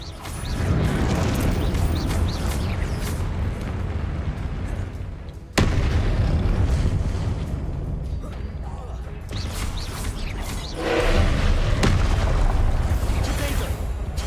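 Combat in the Hogwarts Legacy video game fills the clip with dense, loud rumbling blasts and mechanical clatter as the Confringo explosive spell is cast, one sharp crack partway through and a swelling roar near the end.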